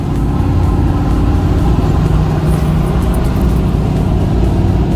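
A car engine runs loud and close as the car pulls out, a steady low rumble with a slight throaty edge and no noticeable revving. No one speaks.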